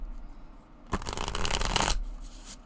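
Anima Mundi tarot cards are riffle-shuffled in one dense, crisp burst of rapid flutter lasting about a second, close and clear against quiet room tone.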